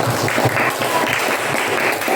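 Classroom applause for a student after her group presentation, a steady patter of many hands clapping throughout, fairly close and continuous.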